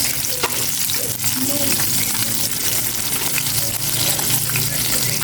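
Chicken pieces fry in a pan of hot oil during home cooking, a steady close sizzle and crackle running unbroken throughout, with faint bubbling and occasional stirring clatter.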